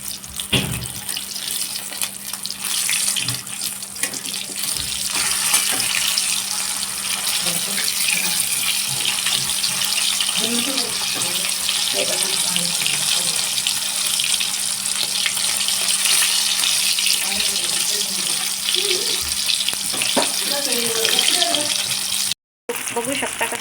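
Chicken pieces frying in oil, a continuous loud hiss and crackle of sizzling that runs throughout with someone talking intermittently over it and a brief dropout near the end.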